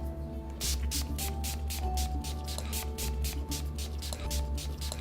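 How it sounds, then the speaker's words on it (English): A facial mist bottle sprays over a face and neck in a quick run of about fifteen short, evenly spaced hissing pumps, close and fairly clear against a low background hum. "start with your mist and generously spray your entire face and neck"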